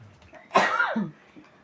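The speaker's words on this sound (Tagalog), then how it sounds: "Inuubo pa ako eh." A single sharp cough during a tongits card game, close and fairly loud, preceded by faint background murmur and followed by quiet.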